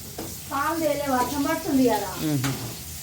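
Gentle sizzling of upma cooking in a pan runs beneath a woman's speech, steady and close.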